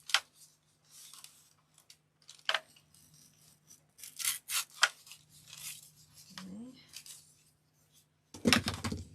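Scissors snip through pieces of paint skin in short, quiet, irregular cuts, with soft rubbing and handling noises between them and a louder rustle near the end.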